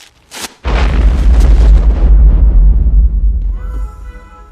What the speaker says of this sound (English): That was really a bomb?